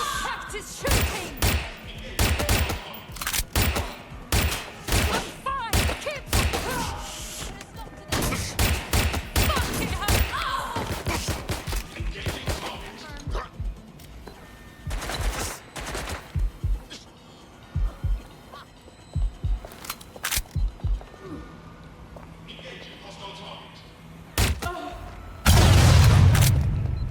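Gunfire in the video game Watch Dogs: Legion, with rapid bursts of loud, sharp shots and heavy booms repeating throughout, sometimes in quick volleys and sometimes with short gaps between them.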